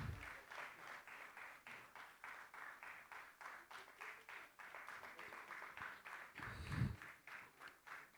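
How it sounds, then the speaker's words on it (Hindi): Audience applause at a felicitation ceremony at a culture centre: sustained, dense clapping from a crowd throughout, steady and fairly loud, with a brief low thump near the end. "ज़ोरदार तालियों से एक बार पुनः सभी का"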